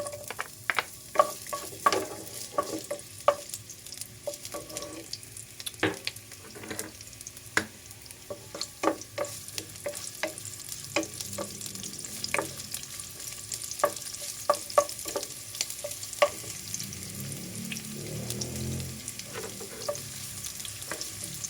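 Onions frying in a pan for a sponge gourd dish, a soft continuous sizzle with irregular clicks and scrapes of a utensil stirring, close and fairly quiet, with no voices.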